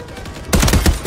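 Gunfire erupts in a first-person shooter match in search and destroy mode, starting halfway through after a quiet lead-in and continuing as dense, loud bursts of rapid automatic shots with no talking.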